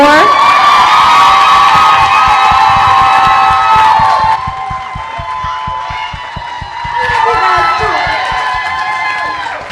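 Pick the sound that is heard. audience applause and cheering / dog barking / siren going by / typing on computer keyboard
audience applause and cheering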